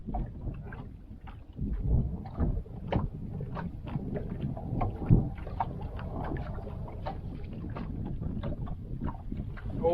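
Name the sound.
wind blowing on the water while ice fishing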